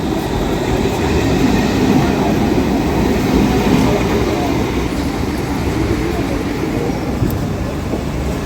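Train 13149 from Alipurduar to Sealdah pulls into Dakshineswar station, heard from inside an economy coach as a steady, loud, unbroken rumble of wheels and carriage noise with no voices.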